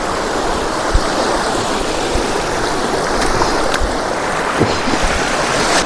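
A river at the Kali Bontar campsite in Magelang, between the Merapi and Merbabu mountains, rushes in a loud, close, continuous wash, with occasional splashes and knocks breaking through the flow.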